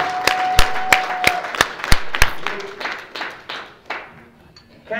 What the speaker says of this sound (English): A round of applause to our team.